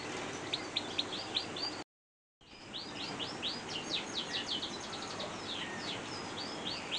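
Crossbill calling near its nest, a series of rapid, sharp chip notes repeated in quick bursts at moderate distance over steady outdoor background noise, with a brief gap of silence early on.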